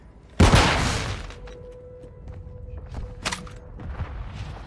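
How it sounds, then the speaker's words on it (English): A grenade blast in Call of Duty Warzone 2.0: one sharp, loud explosion that slowly fades, followed later by a few smaller bursts of gunfire. "Throwing grenade!"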